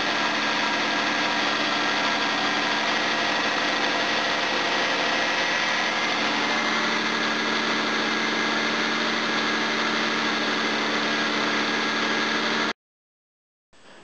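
A Jaguar XJ12 V12 engine idles smoothly and evenly, a close, steady hum that holds unchanged for about thirteen seconds before cutting off abruptly.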